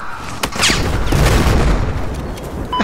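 Dense, continuous rumble of video game gunfire and booming blasts with a few sharp cracks, loud and steady throughout, like a busy game battle.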